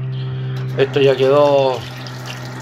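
Tap water runs in a steady, close hiss while a part of a calefón gas water heater is rinsed clean, with someone speaking Spanish briefly over the flow.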